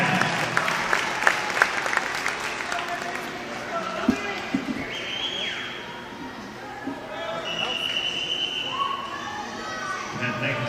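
Applause at a 10-and-under youth swimming divisional meet after the boys 100-yard butterfly final, scattered clapping from a crowd in an echoing natatorium, with children's voices and whistle-like tones over steady background chatter.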